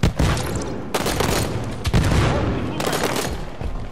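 Gunfire in the video game Halo 5: Guardians erupts in loud, dense rapid bursts of overlapping shots with almost no pauses, close up and continuous throughout.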